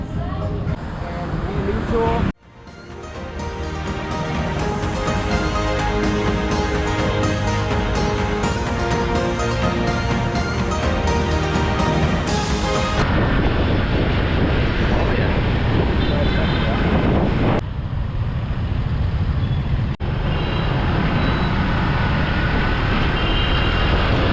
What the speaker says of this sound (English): It only makes sense in the motorbike capital of the world to try out some motorbiking today. And it's live Vietnam traffic.